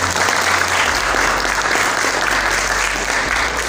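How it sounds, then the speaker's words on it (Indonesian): A large audience at SMPN 2 Gempol school applauds the children in a dense, loud, unbroken wash of clapping that lasts throughout. "Tepuk tangan untuk anak-anak semua."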